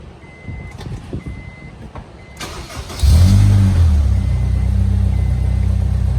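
A Honda S2000 with a Momo steering wheel fitted is switched on: two short warning chimes, a click, then the engine cranks and settles into a loud, steady idle close by.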